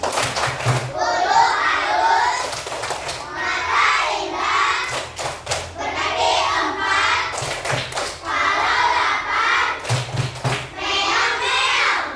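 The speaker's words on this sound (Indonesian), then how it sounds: "ibu mau dengar ini dong, tepuk kucingnya. Tepuk kucing." Third-grade schoolchildren in an Indonesian classroom perform the cat clapping chant, chanting together in bursts with rhythmic group hand claps and thumps, loud and close, repeating in several rounds with short pauses between.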